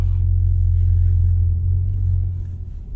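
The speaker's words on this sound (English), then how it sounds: "this car does the burbles as well. So I really want to hear that coming from this six cylinder" A Cadillac CT4-V Blackwing six-cylinder engine in track mode, a deep steady rumble with low burbling that fades slightly toward the end, heard up close with no talking.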